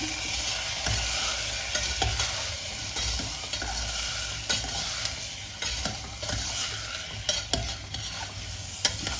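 Green pigeon pea curry with turmeric and salt being stirred in a pan, a continuous sizzle broken by repeated spoon scrapes and light clinks, close and moderately quiet.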